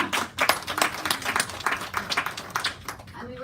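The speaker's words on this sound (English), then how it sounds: "I think that deserves a clap." An audience at a YWCA Bergen County community update breaks into moderately loud applause, a dense patter of many hands clapping steadily for a few seconds with no voices on top.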